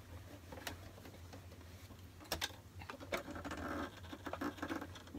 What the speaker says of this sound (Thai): เย็บไปตรงกลางเลยค่ะ